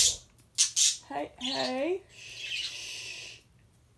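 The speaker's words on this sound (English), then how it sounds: "My birds are going crazy." Pet birds at home squawk and call in a few sharp bursts, with a rising warbled cry and a longer raspy call that tails off, fairly close; a person briefly speaks.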